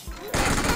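Gunfire in PUBG Mobile ending in a headshot, a sudden loud burst of shots that starts abruptly and fills the rest of the short moment with dense, close crackle.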